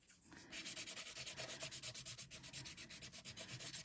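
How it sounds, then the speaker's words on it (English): A sand eraser rubbed gently back and forth on paper cardstock, quiet close scratchy strokes in a fast even rhythm, roughly four or five per second, with no voices. "sand eraser, very gently, because it's like sandpaper and it's gone."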